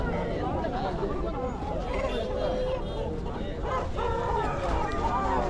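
Chickens cluck and a rooster crows over a dense babble of people at a busy Friday hen market in Kundarapalli, with calls coming from several directions.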